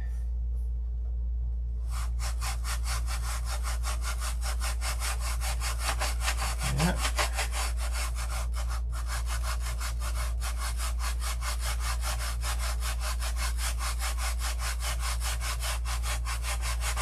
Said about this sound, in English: I think we're gonna have to sand that with my fingers.